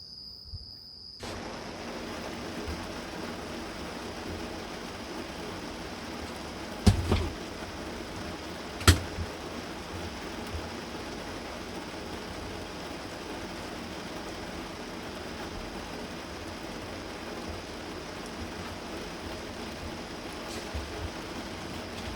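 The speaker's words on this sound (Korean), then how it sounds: "빗소리" Rain falls at night around a campervan in an empty campsite parking lot, making a steady, even hiss. A couple of sharp knocks or drips stand out midway.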